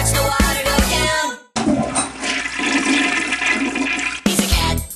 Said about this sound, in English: He likes to push the handle and watch the water go down.